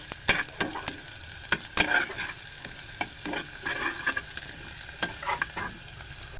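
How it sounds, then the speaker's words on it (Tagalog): Onion and garlic sautéing in a pan, with steady frying sizzle and repeated sharp scraping strokes of a spatula stirring, close and fairly loud, no talking. "Pag nagisa na po ang ating sibuyas, sinunod ko na rin po ang ating bawang."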